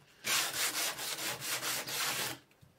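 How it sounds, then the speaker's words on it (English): Sandpaper rubs back and forth along the rough, handsawn edge of a plywood panel in a steady run of close, scratchy strokes lasting about two seconds, then stops. "The handsaw leaves this rough edge on the plywood, so we'll sand it smooth before we attach it to the box."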